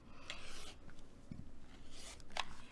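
Quiet scraping and cutting sounds from trimming a quilt block with a square ruler, soft rasping strokes close up with a small sharp snip near the end.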